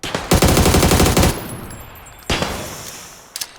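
Loud bursts of rapid automatic gunfire from a video game, a long sustained volley, then a pause and another shot, with echoing decay.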